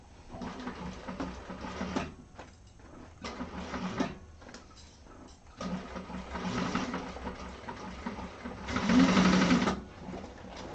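Sewing machine stitching vinyl for a handbag lining, running in several steady bursts separated by short pauses, with a louder, faster run near the end; no voices.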